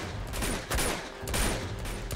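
Gunfire rattles in the video game Uncharted 2, a few quick bursts of shots in rapid succession, moderately loud and close.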